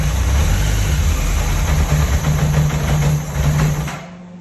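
Honda CBR 1100 Blackbird motorcycle engine running after years in storage: a loud, close, steady low rumble with a rough idle pulse, fading out at the end.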